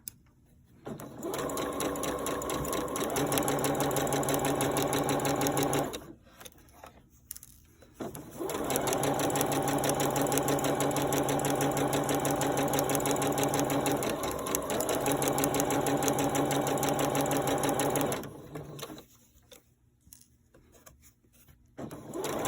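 A sewing machine stitches inserted piping onto fabric in two long runs of steady, close whirring, separated by brief pauses, with nobody talking.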